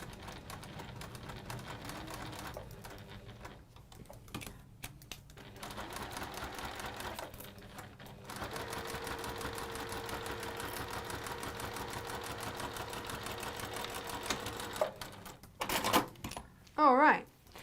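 A domestic sewing machine stitches fabric in a textile craft session, a steady close mechanical whirring run with brief pauses and restarts, and a voice talks near the end.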